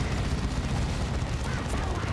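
Heavy, continuous assault cannon fire in the strategy game Dawn of War 2: Retribution, a dense booming rumble of shots over a battlefield without clear breaks.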